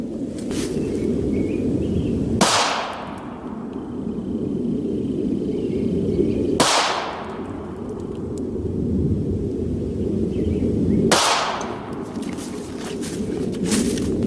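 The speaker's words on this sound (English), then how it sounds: "now we're going to start off with 3 shots with the Steyr M9A1 4-inch barrel." A Steyr M9A1 9mm pistol with a 4-inch barrel firing Browning BXP 147-grain rounds in a ballistics test: three loud, sharp shots about four seconds apart, each ringing out and fading over a steady low outdoor rumble.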